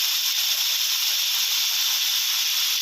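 Chicken stir-fries in a hot pan for garlic fried chicken, a steady, loud sizzle hissing continuous and even throughout with no pauses or voices.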